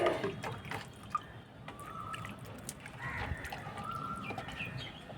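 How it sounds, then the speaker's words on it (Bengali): Water is poured into a potted jasmine plant until the pot is full, a continuous close trickle and dripping, while chickens cluck and birds call in the background. "গাছে ভর্তি করে জল দিয়ে দিতে হবে, এইভাবে একদম পুরো ভর্তি করে"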